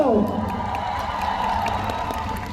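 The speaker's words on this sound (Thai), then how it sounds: "ปรบมือได้แล้ว" Audience at a fan meeting in Bangkok claps and cheers steadily as a continuous crowd roar, with a voice speaking over the start.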